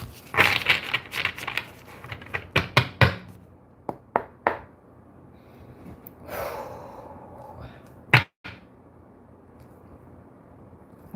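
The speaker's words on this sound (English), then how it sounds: "One more good shuffle, I'm hearing." Tarot cards being shuffled by hand: a run of crisp riffling and slapping bursts with short pauses between them, close to the microphone, accompanied by breathing and a sharp snap near the end.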